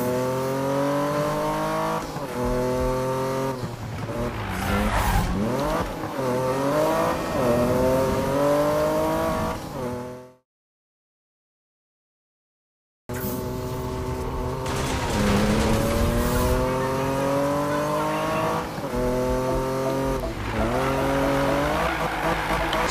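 A racing car in Need for Speed roars and revs with shifting engine pitch and squealing tires, loud and continuous, broken by a few seconds of total silence before the engine noise returns just as intense.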